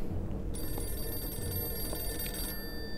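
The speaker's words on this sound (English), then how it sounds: "Answer the phone." A telephone rings in an indie horror video game, one sustained electronic ring of about two seconds, clear and steady over a low background hum with no talk.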